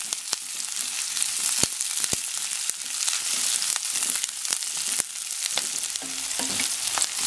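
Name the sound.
onions frying in a pan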